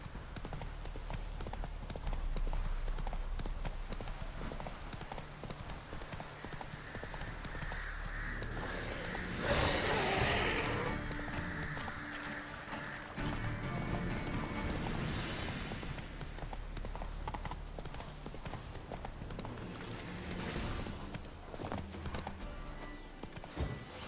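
A horse gallops in The Witcher 3: Wild Hunt, its hooves clip-clopping in a fast steady rhythm at moderate volume, with wind, gear rustle and a brief whoosh mixed in.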